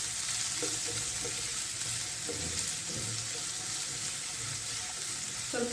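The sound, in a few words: chopped garlic and small onions frying in pan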